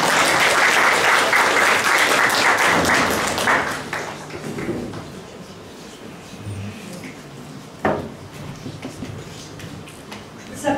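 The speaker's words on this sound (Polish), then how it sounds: "Brawa." Audience at a regional volunteer gala in Olsztyn bursts into loud, dense applause that holds for a few seconds, then thins into scattered claps and fades out, with a brief renewed burst near the end.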